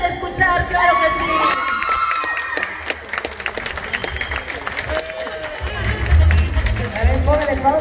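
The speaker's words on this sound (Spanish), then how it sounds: "Y los aplausos del público se hacen escuchar, claro que sí." A crowd claps and cheers loudly throughout at a queen's coronation during a patron saint festival in San Juan Mixtepec, with shouts rising over the applause and a deeper rumble swelling near the end.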